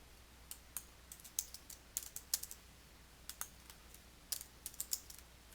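Typing on a computer keyboard while entering notes, a quiet run of irregular key clicks with short bursts and pauses, fairly close and alone.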